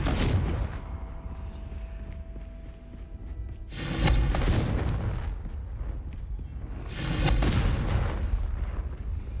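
Fire-curse blasts from the Confringo spell in Hogwarts Legacy, two heavy booming bursts a few seconds apart, each rolling into a crackling decay over a steady background rumble.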